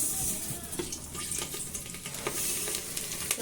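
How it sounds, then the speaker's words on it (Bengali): Pulao rice fries in hot refined oil, a steady close sizzle with soft scraping stirs breaking through now and then. "প্রথমে রিফাইন্ড তেলটা দেখো একদম গরম হয়ে আসছে। চালটা ফ্রাই করবে।"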